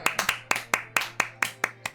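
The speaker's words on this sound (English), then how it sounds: "Everyone applaud this woman." Hands clap in an uneven burst of about ten sharp, close claps, like a single person applauding, with a steady low hum underneath.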